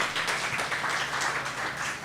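A crowd applauds at a charity chef competition event, a soft, continuous roar of many hands clapping heard from a distance at low volume, steady throughout with no talking over it.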